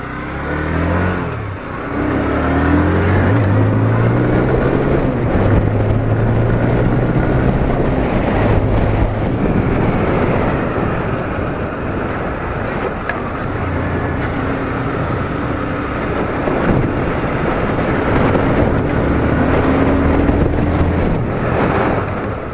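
TVS Apache RTR 160 2V BS6 motorcycle with single-channel ABS accelerating and then braking on a ride, the engine drone rising and falling steadily under heavy wind buffeting at the microphone throughout.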